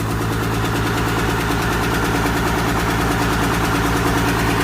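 A loud turbocharged engine idling steadily up close, with a rough, pulsing low rumble and a harsh hissy edge from a leak at the cracked exhaust manifold.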